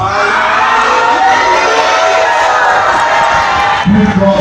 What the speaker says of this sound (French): Est-ce que toute l'église peut se lever debout pour crier Alléluia?